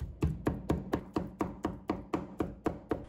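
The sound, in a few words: cleaver mincing chicken breast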